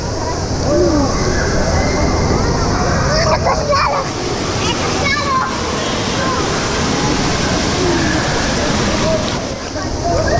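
Loud, steady rushing and churning water of a strong, fairly deep rapids channel at a subtropical indoor swimming paradise, Center Parcs Ardennes, with splashing throughout and a person talking over it at times.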